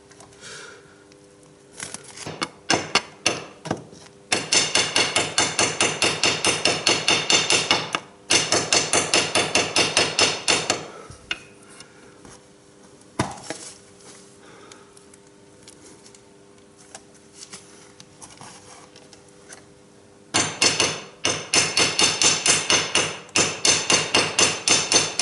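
Metal tube tapped with a hammer to seat a new oil seal into a motorcycle gear selector housing: rapid, sharp, close strikes in long dense bursts separated by a few isolated taps and pauses.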